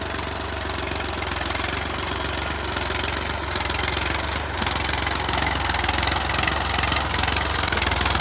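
A tractor engine pulling a cultivator through a field, a loud steady mid-pitched diesel chug that runs without a break, no voices.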